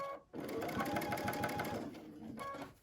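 A sewing machine stitches through thick layers of denim for a table runner, a steady, loud mechanical whirr with rapid rhythmic needle clatter that runs for about two seconds after a short pause, then winds down.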